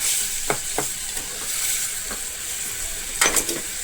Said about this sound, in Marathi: तर बघा असं परतून घेतलं